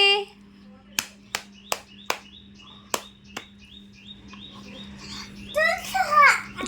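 A young girl claps her hands at home, about eight distinct sharp claps spaced unevenly, close and crisp, over a steady low hum, followed by birdlike chirps and a voice near the end.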